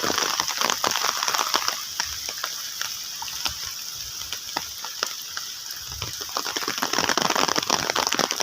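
Heavy rain pours onto a flooded road in Konkan, a dense, continuous hiss and splatter of water rushing and gushing steadily, with no voices.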